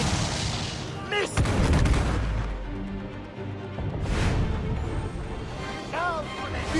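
Ship cannons in Assassin's Creed IV Black Flag fire in loud, booming blasts with crashing impacts amid a naval battle, while voices shout orders between the shots.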